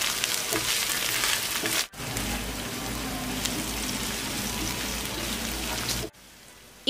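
Chopped tomato drops into onions frying with ginger-garlic paste for a paneer curry, raising a loud, dense sizzle that runs steadily for several seconds before cutting off, close and without speech.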